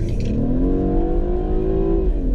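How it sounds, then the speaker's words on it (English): A 2014 BMW 328i sedan's 4-cylinder engine revs up in sport mode, heard from inside the car as a smooth rising drone that climbs steadily in pitch, then eases at the end. "as you can hear the engine, it actually sounds pretty good for a 4-cylinder"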